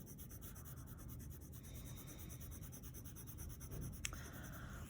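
A watercolor pencil colors in the middle of a shape on paper with a continuous soft scratchy rubbing of close, quiet strokes and one small tap near the end, no speech.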